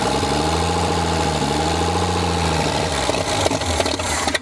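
Engine of a 1962 American Rambler, long locked up, running rough and struggling to idle: a loud, close, uneven rumble with wavering pitch and shaky pulses before cutting out.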